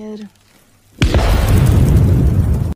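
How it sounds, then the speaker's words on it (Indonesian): A big explosion hits suddenly after a short tone, then rolls into a loud, sustained roaring rumble that lasts to the end. "sebuah ledakan besar disertai rentetan senjata mengejutkan mereka."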